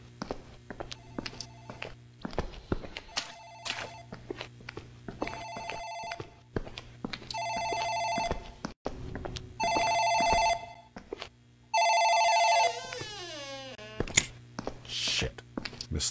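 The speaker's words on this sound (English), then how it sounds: "phone in the office ringing. Probably an important call." An office telephone in the video game Dark Fracture rings in repeated electronic bursts of steady tone, close and clear over faint footsteps and soft thuds.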